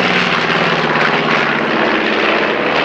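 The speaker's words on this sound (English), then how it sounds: "But here's the B-25" A B-25 medium bomber from the Second World War flies past at Shoreham Airshow 2014, its propeller engines giving a loud, sustained roaring drone that stays strong throughout.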